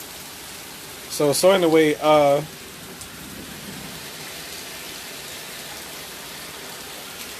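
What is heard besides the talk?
rain on a stormy day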